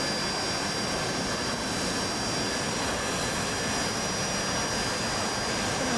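AV-8B Harrier jet in DCS World setting up for a vertical landing, a steady loud turbine roar and high whine filling the whole stretch, unbroken and close, with no talk.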